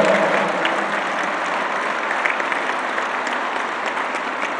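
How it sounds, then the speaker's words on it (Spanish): An audience at a public event for agricultural producers in Zapotlanejo, Jalisco breaks into steady, dense applause, a loud continuous wash of clapping heard alone from start to finish. "Un aplauso a los productores de Jalisco."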